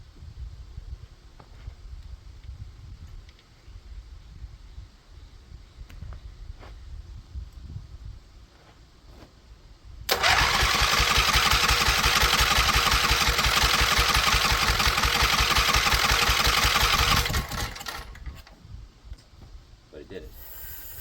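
A 23intek small engine cranks over and runs for about seven seconds, a loud steady rapid chugging close to the microphone, with quieter workshop sounds and a voice before and after.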